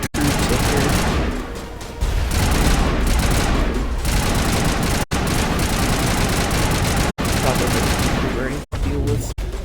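Dense bursts of gunfire from enemy death tank troops in a video game mission, rapid volleys sounding close and loud over a rumbling engine-like drone, with a few abrupt silent gaps.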